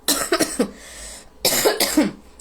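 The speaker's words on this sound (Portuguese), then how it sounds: "me perdoe que a tosse vem de uma vez" Two short bursts of coughing, a pair of harsh coughs, then a pause, then two more, close and fairly loud with no talking.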